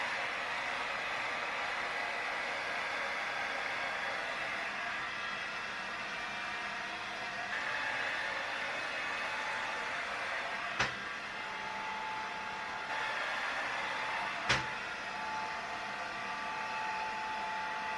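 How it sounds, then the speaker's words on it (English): A handheld hair dryer runs steadily while blow drying a section of hair, a constant close whooshing roar with two brief sharp clicks partway through and no talking. "And then I'll take this section down and just blow dry it, but the opposite way,"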